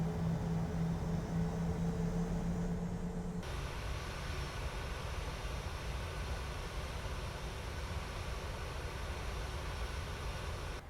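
A PMDG 737-800 taxiing in Microsoft Flight Simulator 2020, with a constant broadband engine roar heard from the cockpit; a humming tone fades out early and the roar carries on steadily with no voices.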